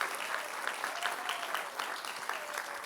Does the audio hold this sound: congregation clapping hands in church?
yes